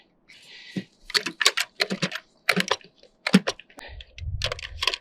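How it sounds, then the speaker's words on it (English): A hand crimping tool works a fitting while framing a mountain-view window with wood from the family's own forest, giving sharp clustered clicks and squeezes in uneven bursts, close and crisp, ending with a lower rustle. "I'm gonna crimp it again."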